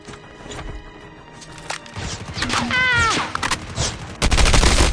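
Rapid bursts of gunfire in the video game COD Mobile, loud and dense, mixed with in-game effects and a sweeping tone, getting heavier toward the end.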